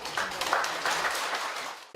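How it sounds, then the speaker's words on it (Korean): Applause from a conference audience welcoming the keynote speaker at the Korean national religions council's 39th anniversary academic symposium: a steady two-second wash of clapping that fades out at the end. "큰 박수로 모시겠습니다"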